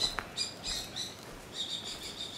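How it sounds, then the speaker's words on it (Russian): Crows call in an abandoned pioneer camp in Karaganda region, giving a few faint, distant caws and squawks in quick succession, with no talk. "Вороны живут."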